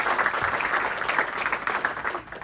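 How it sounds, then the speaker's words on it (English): A room of colleagues gives a sustained round of applause at a leaving presentation, a dense wash of many hands clapping steadily and fading slightly at the end. "And I think that gets a round of applause as well"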